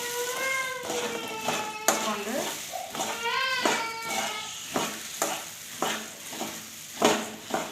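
A spoon scrapes and clacks through a thick churumuri snack mixture in a pot, with a voice speaking over the first few seconds, then rhythmic stirring alone.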